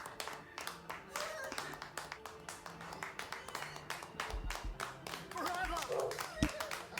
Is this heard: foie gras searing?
no